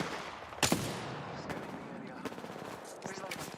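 Apex Legends gunfire: a loud crack of a shot is followed by several more spaced bursts over a constant rumble of battle, with a voice talking faintly nearby.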